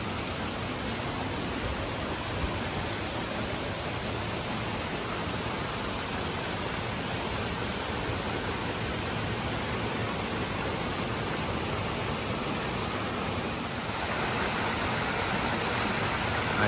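Steady rushing of a flowing creek, a dense, unbroken broadband wash of water that stays loud and close from start to finish with no voices.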